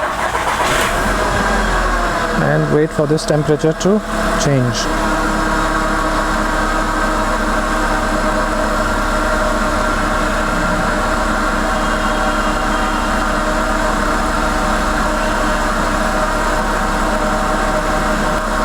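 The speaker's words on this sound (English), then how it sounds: "Okay, so I'll switch on the engine" A VW Vento 1.6 L petrol automatic's engine cranks and catches after a few seconds, then settles into a steady, low idle that continues. A voice speaks briefly.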